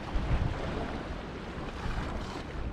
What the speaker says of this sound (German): abends wird jetzt doch ein bisschen leichter Wind ist jetzt aufgekommen